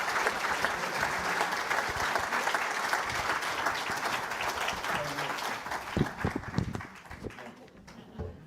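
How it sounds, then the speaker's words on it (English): Audience applause for a panel discussion at a brain injury awareness event, a dense, steady clapping from a large crowd that carries on for several seconds before thinning out toward the end. "A big round of applause for our panellists."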